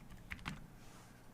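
Quick keystrokes on a computer keyboard while entering sample web page text, a short cluster of two or three soft clicks near the start, then quiet room tone.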